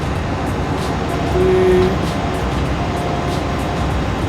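A Kobelco SK200-10 excavator engine in Farming Simulator 22 drones continuously with a low, rumbling hum, steady and close, with a brief tonal whine in the middle.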